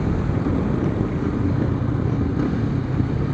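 A Honda CB500X motorcycle rides along with its exhaust droning steadily, blended with heavy wind buffeting and road roar close to the helmet microphone.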